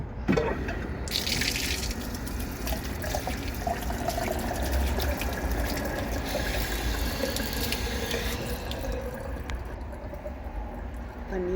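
Water running steadily as feet are washed at a temple, a continuous close gush and splash lasting around eleven seconds, with faint voices in the background.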